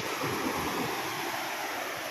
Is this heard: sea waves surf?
yes